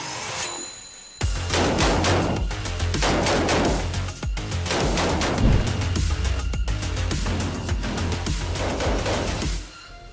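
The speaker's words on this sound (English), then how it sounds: "I had no issues shooting that gun." A gun is fired repeatedly by a shooter wearing a bulletproof suit, producing a long string of loud, sharp, close shots in rapid succession with brief pauses between volleys.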